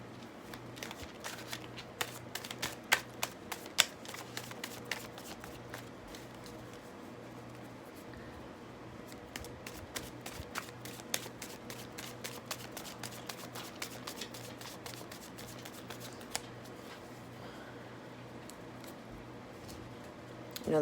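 Tarot cards being shuffled during a Libra reading, a steady run of soft riffling and flicking card sounds at close range that carries on for the whole stretch, with no voices.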